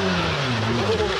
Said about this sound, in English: That's a Rockstar rally car.